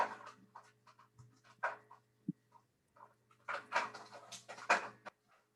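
A puppy pants in quick, breathy bursts nearby, with scattered rustling and bumping as it moves around a room, over a steady low hum.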